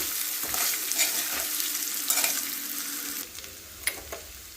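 Flattened poha being mixed in a pan with soft, steady scraping and light sizzling, occasional spoon scrapes standing out, close and fairly quiet with no voices.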